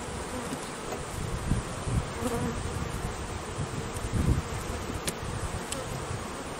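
Honey bees buzz in a dense, continuous swarm drone at an open hive during queen rearing, close and steady with individual insects whirring past.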